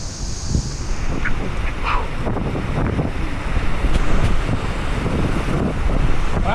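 Hurricane Nora, a Category 1 storm, drives waves and wind onto the coast at Melaque, Mexico, making a steady, loud roar of surf and wind buffeting the microphone throughout, with no talking.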